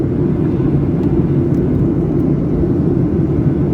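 A Ryanair Boeing 737-8AS airliner cruising between Stockholm Skavsta and London Stansted fills the cabin with a steady, loud, low engine and air rumble. The roar stays constant throughout.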